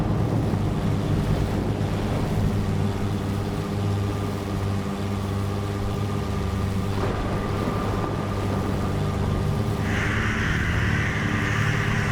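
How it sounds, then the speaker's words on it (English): Stormy sea in the video game Jenny LeClue, with steady wind roaring and surf washing around a small dinghy, a continuous dense rumble and hiss throughout, a brighter hissing gust rising near the end. "Going into a dinghy in the middle of a thunderstorm on unsettling water."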